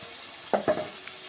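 Taro and potato pieces dropped into hot spiced oil, two quick scraping stirs over a steady soft sizzle, short and close.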